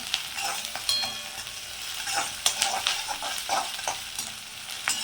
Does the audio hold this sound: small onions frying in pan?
yes